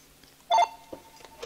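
A telephone rings with one short, fairly loud electronic tone burst over a quiet room background, followed by faint soft clicks.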